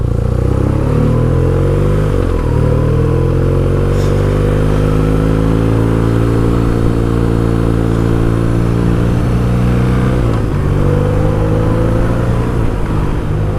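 A motorcycle riding on the road, loud and steady, with the engine droning and its pitch rising and falling through gear changes under constant wind noise.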